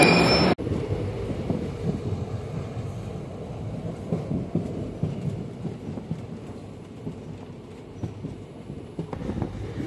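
A train rumbles along the line from Ramanathapuram to Rameswaram, a steady low roar with rattling that fills the whole stretch, heard from on board and sounding fairly loud and continuous.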